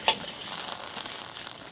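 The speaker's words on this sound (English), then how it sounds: "Take the hot coals and just spread them around." Hot charcoal is pushed around inside a Weber barbecue, giving a close, continuous gritty crackle and rustle that starts with a brief sharp scrape.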